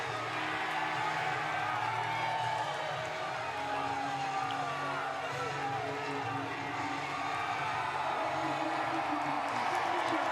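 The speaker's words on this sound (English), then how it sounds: "And the crowd loves it." A big crowd at Kansas Speedway cheers for Butterbean's ARCA Menards Series race win, a steady dense roar filling the whole stretch while a commentator talks over it.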